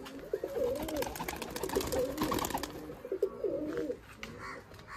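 A wild pigeon coos repeatedly close by, soft low rolling phrases in a steady series, with light rustling, handling noise and a few faint chirps around it.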